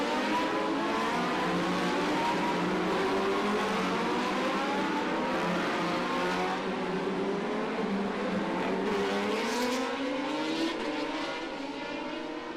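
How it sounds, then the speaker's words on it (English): Racing motorcycles on a warm-up lap at the Macau Motorcycle Grand Prix blend into a continuous loud engine roar, pitch sweeping up and down through gear changes with no pause. "everyone tears up San Francisco Hill"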